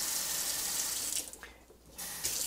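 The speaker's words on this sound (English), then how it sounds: "You can kind of control it just like a normal faucet." A Moen MotionSense touch-free kitchen faucet runs into a sink, a steady hiss of water that briefly drops away mid-clip before resuming at full flow.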